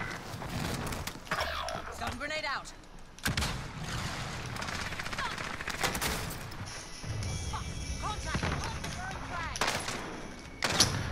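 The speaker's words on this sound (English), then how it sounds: "Fire shotgun, dead instantly." Call of Duty: Modern Warfare multiplayer combat with sharp, loud shotgun blasts and other gunfire cracking at irregular intervals, mixed with in-game noise and players talking.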